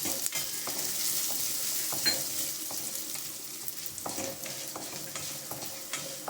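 Chana dal, urad dal and coriander seeds dry roasting in a pan, with a soft rustling sizzle and repeated scraping strokes of a spoon stirring the lentils and seeds, close and fairly quiet.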